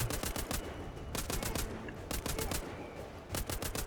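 A heavy-recoil gun in the game Band of Defenders fires in rapid automatic bursts, about four clusters of sharp, punchy shots separated by brief gaps, close and loud with no talking.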